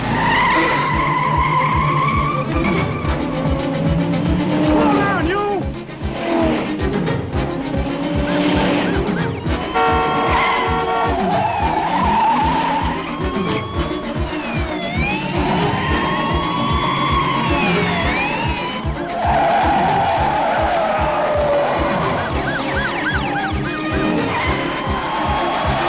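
A runaway car with a stuck throttle roars and skids, its tires squealing in repeated long screeches over a constant loud engine drone, with impacts and scattered shouts mixed in.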